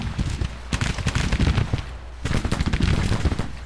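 Rapid crackling musket volleys in a Civil War strategy video game, two dense bursts of overlapping shots with a short lull between, loud and close.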